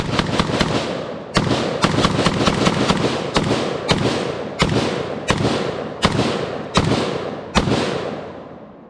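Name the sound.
CZ Bren 2S carbine gunshots at range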